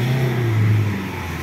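A car pulls away in second gear during a driving lesson, a low engine tone rising steadily and close for about a second before easing off, with no talk.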